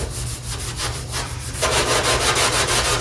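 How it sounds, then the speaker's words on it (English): Steady rhythmic scrubbing of a pad over parts of a 1974 Dodge D100 pickup truck during cleaning, a close, continuous rub that grows louder and brighter halfway through, with no talking. "These little scrubber things are pretty good"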